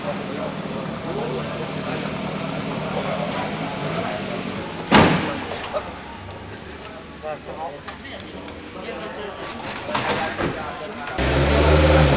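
A rally car engine idles and revs on the start line at a 1999 French rally, with a sharp bang partway through and people talking over the running engine.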